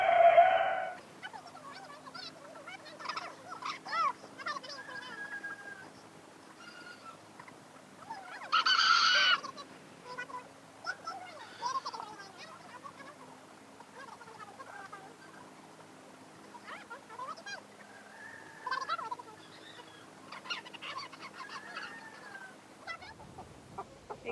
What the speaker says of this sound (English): She's usually good at catching chickens.